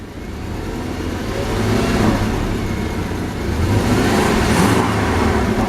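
2017 Porsche 718 Cayman with the sports exhaust off, its engine revving in two long, rising surges, a steady mid-pitched drone heard close and fairly loud.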